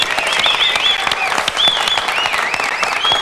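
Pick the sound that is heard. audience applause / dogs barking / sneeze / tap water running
audience applause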